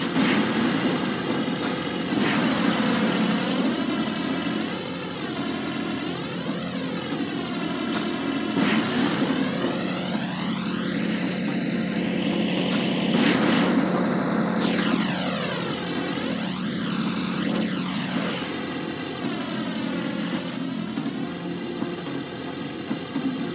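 An out-of-control plane in the Spider-Man 2 video game gives a loud, sustained engine roar. The pitch sweeps up and down as it swoops past, and it drones on without voices for over twenty seconds.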